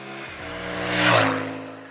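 The twin-cylinder engine of a CFMoto 450MT motorcycle revs up close and loud, its pitch climbing to a peak about midway and then easing back to a steady, smooth hum.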